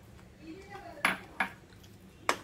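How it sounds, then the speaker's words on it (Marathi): Potatoes going into a pan on a stove over low heat, heard as three sharp metallic clanks against the pan, fairly close, with quieter kitchen rustling between them. "यामध्ये मी आता बटाटे घालते"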